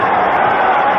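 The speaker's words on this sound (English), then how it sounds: "You can hear the crowd chanting." A wrestling crowd at a 1984 championship match roars and chants in a dense, continuous wall of voices, loud and sustained throughout the short moment.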